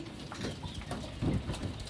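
Pigeons on a pigeon farm coo softly in low throaty rolls, a couple of close calls over a dense murmur of other birds nearby, some sitting with chicks.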